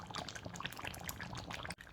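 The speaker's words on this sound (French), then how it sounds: "Je suis venue rajouter à l'intérieur 20 ml d'huile végétale." Vegetable oil pours steadily into a cooking pot for beef feet sauté, a continuous close, bright liquid stream that cuts off abruptly near the end.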